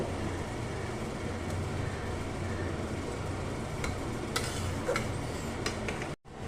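Pangas fish kalia curry being stirred in a pan, a steady scraping and gentle sizzle running continuously with faint clicks, close and even until a brief drop near the end.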